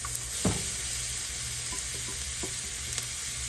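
Calabaza squash frying in a hot pan for oyster mushroom fajitas, a steady close sizzle with a few utensil taps and pan clinks, no talking.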